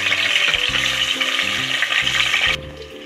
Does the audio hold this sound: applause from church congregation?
no